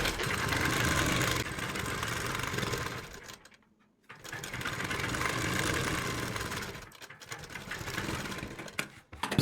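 Sewing machine stitching a darted kameez seam, rapid whirring runs of needle chatter broken by two short pauses, close and fairly loud with no talking.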